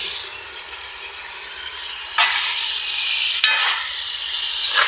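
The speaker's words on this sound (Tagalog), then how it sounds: "sasangkotsahin muna natin yung laman at saka yung ginisan natin taba doon sa bawang at sibuyas" Meat sautéing in rendered pork fat with garlic and onion, a constant close sizzle broken by two loud surges of hissing as the food is stirred and tossed in the hot pan.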